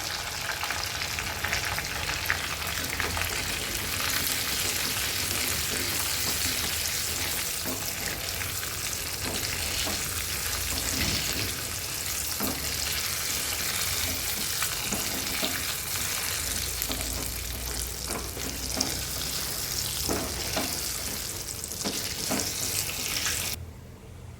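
Dried red chillies and curry leaves sizzling in hot tempering oil for a shrimp gongura dish, a loud, steady, crackling fry that runs unbroken for a long stretch with faint occasional stirring clinks.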